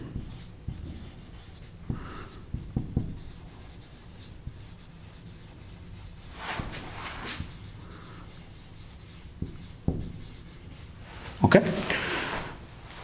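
Chalk or marker strokes on a board during a control systems lecture, coming in scattered scratchy bursts with quiet gaps between them, and a sharper squeaky stroke near the end; the room is otherwise quiet, with no talking.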